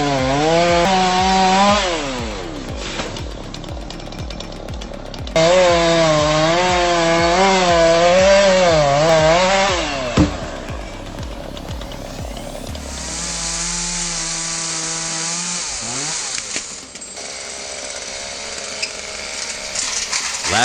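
A chainsaw cuts into a tree with a loud, close, buzzing roar whose pitch swoops up and down as the engine loads and revs, running continuously, then shifting to a higher-pitched strained whine and rough grinding toward the end.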